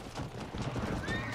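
Horse neighing with hooves clip-clopping in the Red Dead Redemption video game, a short close whinny and stamping over a faint rumbling background.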